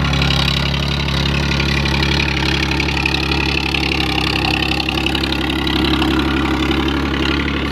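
A tractor runs steadily while pulling an 8-foot rotavator through a field, its loud, constant mid-low engine drone dense and unbroken from start to finish, with no talk over it.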